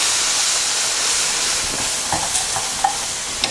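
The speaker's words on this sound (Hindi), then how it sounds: "जब आप इसमें सिरप डालेंगे तो काफ़ी उछलता है" Hot sugar syrup hisses and sizzles as it is poured into mango halwa in the pan, a steady broad steamy hiss with a few small bubbling pops toward the end, no talking.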